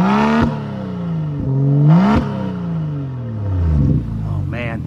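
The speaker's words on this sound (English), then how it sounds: "Let's do another rev time real quick." A BMW X4 M40i engine revs hard several times, each burst climbing in pitch then falling back, with a throaty exhaust tone, close by and loud.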